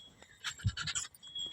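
A dog pants in short, quick breaths as it approaches, close by and fairly faint, with no talk over it.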